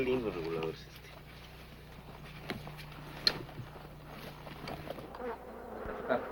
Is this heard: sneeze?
no